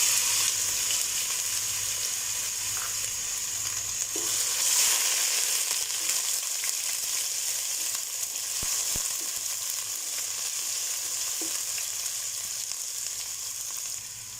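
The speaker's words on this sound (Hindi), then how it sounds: "अभी सबसे पहले इसमें अदरक लहसुन का पेस्ट डाल देंगे।" Ginger garlic paste frying in hot oil while cooking namkeen gosht, a steady dense sizzle throughout with occasional stirring scrapes and light clicks, close and continuous with no talking.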